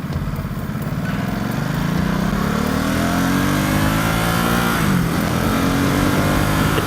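A 2018 Ducati SuperSport S motorcycle engine drones loudly and steadily while being ridden, its pitch rising and shifting through the revs with a brief dip near the end, close and continuous with no talking.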